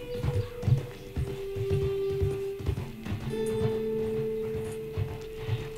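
Horse hooves in Red Dead Online clip-clop at a steady trotting rhythm, close and distinct, over a faint droning tone in the background.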